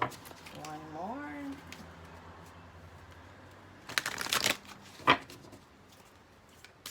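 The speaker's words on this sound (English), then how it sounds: "let me give the cards a couple of shuffles." Tarot cards are riffled and shuffled in a couple of quick, close bursts, against a quiet background with some faint tones earlier on.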